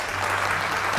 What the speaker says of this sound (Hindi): इनके लिए बहुत सारी तालियां बजाइए